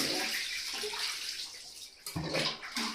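Water sloshes and splashes steadily in a tub while a baby is bathed after an oil massage, with a couple of sharper splashes near the end and no one speaking.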